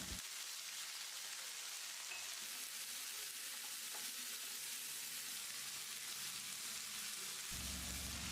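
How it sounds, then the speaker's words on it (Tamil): Mixed vegetables sautéing for vegetable venpongal after a sprinkle of water, stirred in the pan; a loud, dense, close hiss and crackle continues throughout without a break. "காய்கறிகள் வேகிறதுக்காக கொஞ்சமாக தண்ணி தெளித்து கலந்து விட்டுடலாம்."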